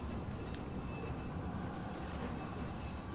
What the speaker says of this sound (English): This is my train cart.